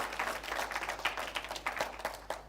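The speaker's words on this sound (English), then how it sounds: "Can we give them a big round of applause?" Audience applause for a schools quiz final's adjudicators, fairly faint scattered claps, irregular and uneven, with no voices over it.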